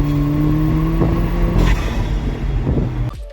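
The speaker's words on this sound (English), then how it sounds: "this car also does have an upgraded exhaust and intake, which you can definitely hear in some of our driving videos" A modified 2016 Alfa Romeo 4C with a 4-cylinder turbocharged engine, upgraded exhaust and intake, drones loud and close as it revs, its pitch rising and falling before cutting off abruptly near the end.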